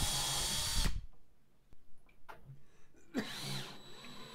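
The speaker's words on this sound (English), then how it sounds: "it's always a good idea to pre-drill your screw holes, especially into hardwood" A power drill whirs loudly for about a second while drilling a pilot hole into hardwood, then stops, leaving quiet handling noises before the motor briefly spins up again.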